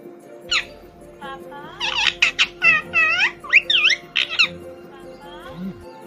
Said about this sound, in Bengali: এটা তোতা পাখির কথা